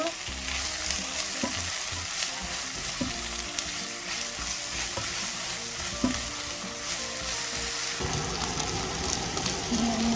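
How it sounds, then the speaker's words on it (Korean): Shrimp stir-fried for seafood jjamppong crackle in oil with a steady, loud sizzle, with scraping stirs and occasional clinks of a utensil against the pan throughout. "새우도 넣고 볶아줄게요"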